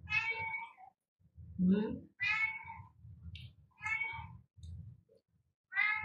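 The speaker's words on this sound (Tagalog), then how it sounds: "Nandito naman pusa ko" A cat meows repeatedly up close, five or six distinct meows in a loose rhythm over a low, pulsing rumble.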